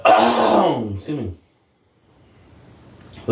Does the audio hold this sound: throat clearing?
yes